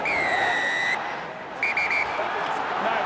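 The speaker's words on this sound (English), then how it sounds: "And an insistent peep on the whistle." Referee's whistle at a Premiership rugby match between Harlequins and Sale, a sustained insistent shrill blast followed by a few shorter peeps over a steady crowd murmur.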